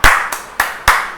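Children clap their hands during a nursery rhyme: four sharp, evenly spaced claps in a steady beat, close and loud, with no talking.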